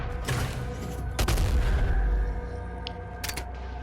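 Rocket launcher fire in a video game lands as heavy booms and bursts over a loud, rumbling game soundscape, with a couple of sharp blasts standing out and no voice.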